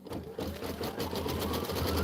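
An unthreaded sewing machine runs a short sample stitch-out, a quick steady mechanical patter close by and alone, with no talk.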